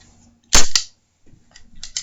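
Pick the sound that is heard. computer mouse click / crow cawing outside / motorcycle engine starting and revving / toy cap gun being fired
toy cap gun being fired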